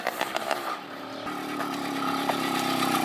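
Neighbor's car revving with a damaged, missing blast pipe exhaust, a raw engine roar building steadily louder over about three seconds with a few sharp bursts early on, heard from nearby.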